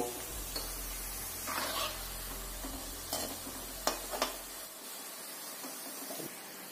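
Namak para, a fried Indian dough snack, sizzling in hot oil with a steady hiss, then stirred with a few soft scraping knocks as the low hum cuts out; close and moderate, without talking.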